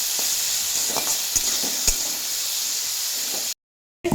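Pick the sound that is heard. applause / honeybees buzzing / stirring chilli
stirring chilli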